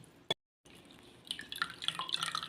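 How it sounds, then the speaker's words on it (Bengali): Water dripping as freshly made chhana, lemon-curdled cheese, is squeezed by hand: a single sharp drip, a moment of silence, then a faint scatter of small splashes and trickles. "একদম চেপে চেপে সম্পূর্ণ জলটা বার করে দিচ্ছি।"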